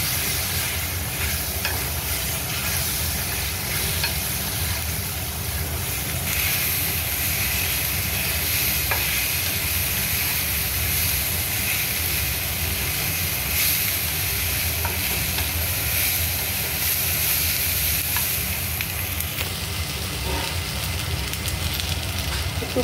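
Crispy corn tossed with tomato ketchup sizzles and scrapes in a pan over a high flame, a steady loud frying hiss with continuous stirring clatter throughout.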